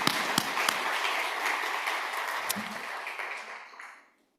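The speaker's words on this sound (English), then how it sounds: "One more time, a round of applause for all these amazing folks." Audience applause at a closing ceremony, dense steady clapping with a few sharp claps standing out, fading away near the end.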